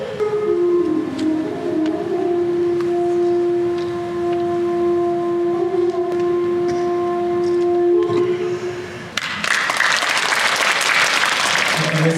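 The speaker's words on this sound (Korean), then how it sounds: "모두 큰 박수 부탁드립니다" A patriotic instrumental performance at an international action-actor audition ceremony holds sustained tones before the audience breaks into loud, dense applause for the final few seconds.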